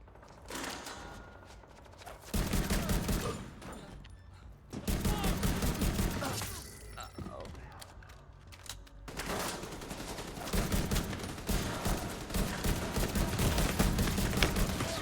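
Sustained bursts of gunfire from The Division 2, with rapid automatic volleys in several loud stretches separated by short, quieter gaps, and no talk over the shooting.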